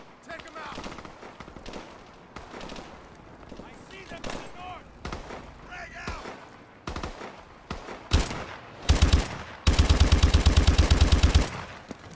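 Machine gun fire in Call of Duty: Advanced Warfare, scattered single shots and short bursts building to a long, loud sustained automatic burst near the end, with game sounds and muffled background activity.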